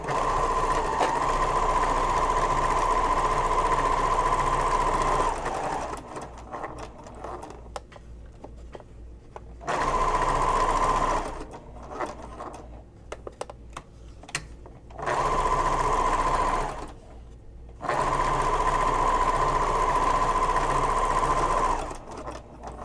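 A sewing machine zigzag-stitches messenger bag pieces together in steady, loud whirring runs of a few seconds each, separated by pauses with quieter handling noise.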